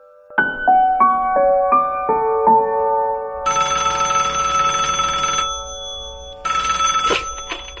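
Telephone ringtone, an incoming call: a rising sequence of electronic tones followed by two bursts of a bright trilling ring, loud and close with no talking.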